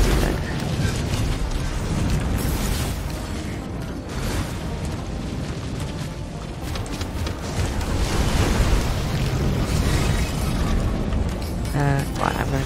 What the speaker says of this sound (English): the magma's coming